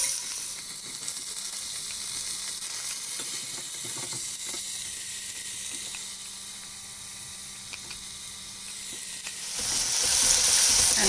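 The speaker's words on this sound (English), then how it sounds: "I'm going to add the onions." Onions sizzling and frying in hot oil with dry spices for prawn biryani, a dense, steady hiss close up that swells louder near the end, with no talking.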